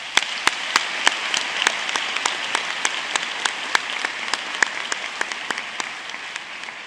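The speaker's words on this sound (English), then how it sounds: "can we give them another round of applause?" Applause from an audience at a university welcome day, a steady wash of clapping with distinct individual sharp claps standing out at a regular rhythm, moderately loud and close.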